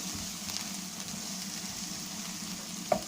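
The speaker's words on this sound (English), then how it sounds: "we've done this, getting this sauteed." Mushrooms sauté in a pan for mushroom butter masala, a faint, even sizzle with one sharp click near the end.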